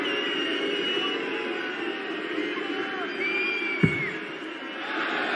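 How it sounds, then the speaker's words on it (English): A darts arena crowd at the Baltic Sea Darts Open murmurs and stirs with scattered calls and whistles as a steady distant roar, while a commentator talks over it and one sharp thud lands midway. "The crowd starts up."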